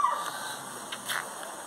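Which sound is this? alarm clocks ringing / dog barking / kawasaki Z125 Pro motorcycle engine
dog barking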